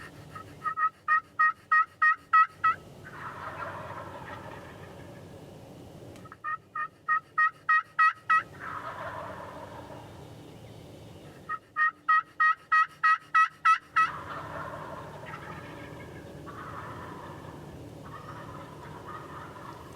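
A wild turkey gobbles repeatedly near its roost on a Wisconsin farm at dawn, three loud, rapid rattling bursts spaced several seconds apart over a steady low outdoor background.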